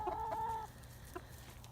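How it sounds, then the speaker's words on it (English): Chickens cluck close by, a few short calls in the first half, then a quieter cluck amid low background rumble. "I have 10 chickens."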